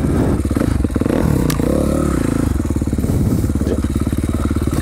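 A dirt bike engine chugs and revs on a steep trail, a loud, close, pulsing motor with clattering as it works over the ground.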